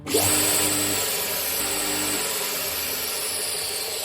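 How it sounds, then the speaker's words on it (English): A pen tip is ground against a spinning grinding wheel, a loud continuous whine with a steady motor hum, close by and without speech. "actually I might just do a little bit of a grind on the wheel as well"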